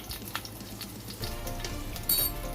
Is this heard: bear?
no